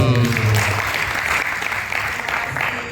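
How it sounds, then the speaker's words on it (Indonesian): A crowd applauding steadily and loudly throughout, a dense wash of clapping with a few voices mixed in. "Tepuk tangan dulu."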